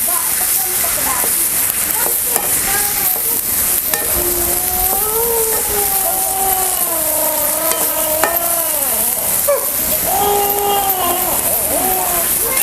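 Spiced vegetables and soybean chunks are stirred around a hot pan, a steady scraping and light sizzle running throughout, with a melodic voice and background music sitting on top.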